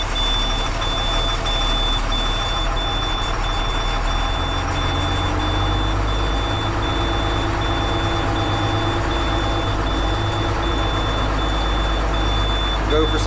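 A bus's large diesel engine idles steadily with a deep, constant rumble, while a faint repeating beep pulses throughout.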